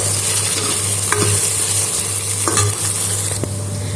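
Cumin seeds sizzle in hot oil while a Punjabi kadhi is cooking, giving a loud, steady crackle with a few faint stirring clicks and no talking.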